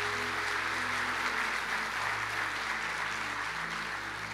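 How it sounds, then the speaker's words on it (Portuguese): A church congregation applauds during a sermon, a steady, dense wash of clapping that holds at even loudness, with soft instrumental tones underneath. "Você pode dar um aplauso a ele?"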